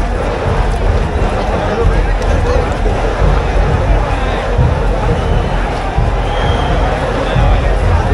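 A large, dense crowd at the Chinchpokalicha Chintamani arrival procession makes a loud, continuous roar of overlapping voices and movement, with no single sound standing out.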